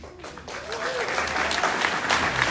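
A crowd at a student awards ceremony for desserts applauds a student award, with clapping building quickly from a brief voice into a full, sustained round of applause.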